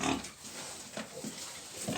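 Piglets on a farm grunt and squeal in a brief, busy burst over a noisy pen background, fairly close, with no one talking.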